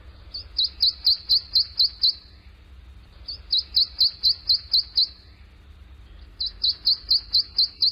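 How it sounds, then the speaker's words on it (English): Prothonotary warbler singing, a tiny yellow bird of wooded, swampy areas: three bright, loud bursts of rapid repeated sweet notes, each run of about eight notes separated by short pauses, close and clear with no talk. "Look for a tiny bird that's mostly yellow with a greenish back, gray wings, and this song."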